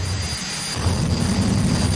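A jet-powered car's engine idles at about 60 percent, a loud, steady roar with a deep low rumble and a thin high whine, swelling slightly partway through and holding constant.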